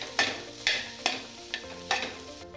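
Mashed boiled potatoes are mixed for tikki with a spoon, making five or six rhythmic scraping strokes about half a second apart over a faint background sizzle.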